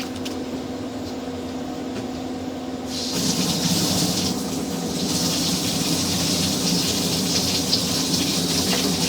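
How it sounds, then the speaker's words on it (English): Cold water running from a basement utility sink tap into a sewer line, heard as a steady rushing gush under a low hum that grows brighter and louder after a few seconds, with no voices. "we're going to go ahead now and turn some cold water on in the utility sink"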